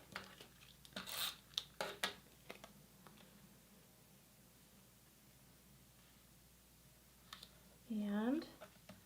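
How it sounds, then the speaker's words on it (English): Adhesive being applied to a card panel, with crisp tearing and peeling of tape or backing and paper rustling, a closer squeaky burst near the end; a voice is heard talking briefly. "I'm going to open up the card, put some adhesive on this panel"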